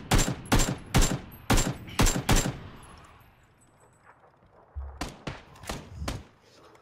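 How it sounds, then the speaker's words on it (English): Gunfire in the battle-royale game PUBG: a rapid string of loud, sharp shots, then a pause and a second shorter volley, with faint sounds between them. "You see, the gunshots showed on my screen, they were coming from the right."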